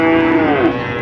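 A young calf at a cattle market lets out a loud, close, drawn-out moo lasting the whole moment, with no talk over it.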